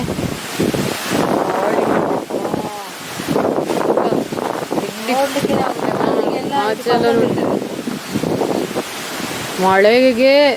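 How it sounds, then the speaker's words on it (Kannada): Strong wind before rain roars and buffets the microphone in gusts, with people talking over it throughout. "ಜೋರು ಗಾಳಿ ಬರ್ತಾ ಉಂಟು ಈಗ ಮಳೆಗೆ."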